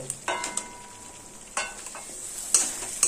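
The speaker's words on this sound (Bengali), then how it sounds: "এবার ভেজে রাখা আলু দিয়ে দেব।" Fried potatoes tossed into a ground spice paste for a Bengali rohu fish curry, with scattered scraping stirs of a spoon against the pan over a soft sizzle, including a few sharp clinks.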